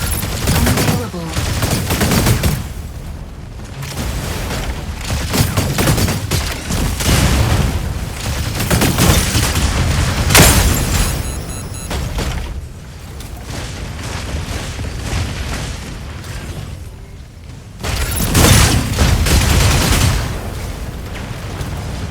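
Incoming fire and explosions in the mech combat game Mecha Break: loud, nearly continuous barrages of rapid gunfire and booming blasts, with dense volleys rising and falling and a short lull.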